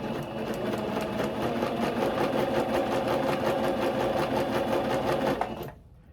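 A sewing machine stitches ribbon onto a tutu skirt in one steady, close, continuous run of rapid needle strokes, then stops abruptly near the end, with no talking.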